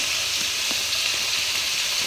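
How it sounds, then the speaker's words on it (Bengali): Pointed gourd and potato pieces fry in oil tempered with cumin seeds, giving a steady, dense sizzle with a few faint crackles throughout, close and continuous with no talking. "পটল আর আলু ভাজতে দিয়ে দিলাম"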